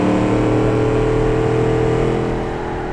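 A harsh, aggressive sports car engine in the Automation car-design game holds a steady high-revving drone with strong harmonic whine throughout, loud and continuous, fading slightly at the end, with no talking.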